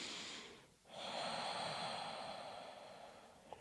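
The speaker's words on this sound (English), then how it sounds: "Deep Ujjayi breath if you know Ujjayi." A deep Ujjayi yoga breath, a long, loud, steady breathy rush close to the listener that follows a short inhale with a brief pause and lasts about three seconds, with no talking.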